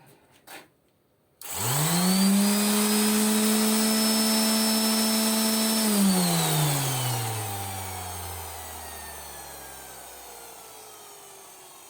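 A Bosch GEX 125-1AE random orbit sander whirs up abruptly to a loud, steady high-pitched drone, runs for several seconds, then is switched off and spins down, its whine falling gradually in pitch until it fades out.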